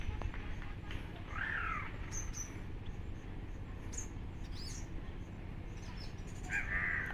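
At a bird sanctuary, a bird calls out twice, short harsh cries several seconds apart, faint and distant over a low steady background hum.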